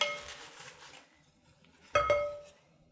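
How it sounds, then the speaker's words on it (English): Salad tossed in a bowl with serving utensils gives a couple of soft clinks and scrapes, quiet at first, then a sharper ringing knock against the bowl near the end before fading out. "So now I'm just going to mix this together."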